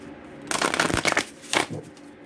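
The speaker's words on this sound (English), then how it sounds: "I really feel like I need to shuffle" Tarot cards shuffled by hand in two quick bursts of riffling and sliding card sounds, close and fairly loud, with brief quiet gaps between the bursts.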